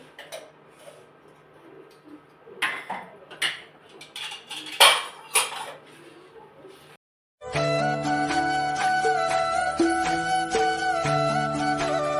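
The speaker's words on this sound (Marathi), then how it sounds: "तोपर्यंत मी सगळी भांडी क्लीन करते" Pots, dishes and cutlery clatter and clink at a kitchen sink as they are washed, scattered knocks at first, then a steady dense run of ringing metallic clanks close by.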